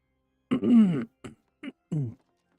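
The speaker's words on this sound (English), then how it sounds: "Sorry, I didn't mean to clear my throat." A person clears their throat in a few rough, voiced bursts, one longer rasping push followed by two or three short guttural catches, close and loud against silence.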